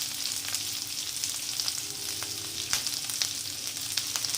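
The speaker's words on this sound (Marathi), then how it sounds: "त्याला छान फ्राय होऊ देऊया" Egg fritters and sliced garlic frying in oil with chillies in a pan, a steady, fairly quiet sizzle dotted with sharp pops and crackles throughout, no talking.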